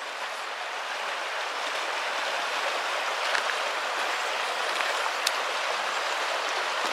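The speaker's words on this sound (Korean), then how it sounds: "잘 한번 물소리를 들어보세요." Clear mountain valley stream in Hoengseong, Gangwon, flowing steadily, a continuous hissing, bubbling water wash with faint occasional splashes and no talking.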